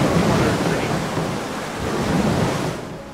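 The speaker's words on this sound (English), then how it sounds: "Do you see all that rain, like the storm clouds?" Heavy rain and rumbling thunder from a storm in the strategy game Total War: Rome II, a steady broadband roar with low swells that continues throughout at a fairly loud, even level.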